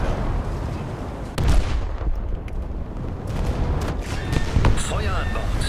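Naval guns boom and rumble during a World of Warships battle with the German battleship Scharnhorst under fire from the French ship Paris, heavy distant blasts with rolling thunder and a sharper volley near the middle, while a voice talks over it.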